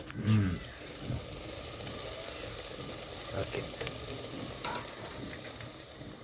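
Sweet potato halwa with jaggery being stirred in a pan, a steady soft sizzle and scraping churn running throughout at close range, with a brief louder clunk at the start.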